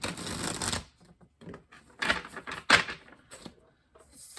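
Tarot cards shuffled by hand in several quick bursts, crisp riffling and slapping close by with short pauses between rounds, no talking.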